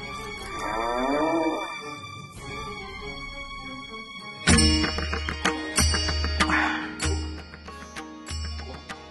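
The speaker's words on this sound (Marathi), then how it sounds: "गाय यायला आली" A cow moos in deep, drawn-out calls, repeated several times over other background sounds.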